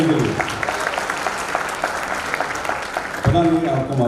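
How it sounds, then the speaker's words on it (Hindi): Audience at an office zone social event applauding a song, a sustained dense patter of clapping hands with a voice speaking over it near the end. "जोरदार तालियां गाने के लिए।"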